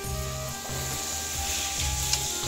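Chicken pieces braising and frying in a pan, with a steady sizzle and a utensil scraping and stirring in repeated strokes.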